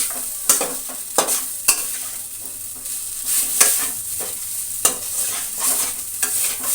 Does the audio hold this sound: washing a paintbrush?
no